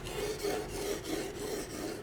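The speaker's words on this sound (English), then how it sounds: "just let you guys enjoy the sound of sharpening" A knife blade is drawn over a 1000 grit sharpening stone, giving a steady, close rasping scrape that repeats in even strokes, with no talking.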